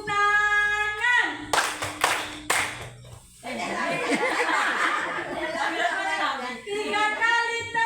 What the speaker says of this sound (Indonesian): Jadi 3 kali tepuk tangan.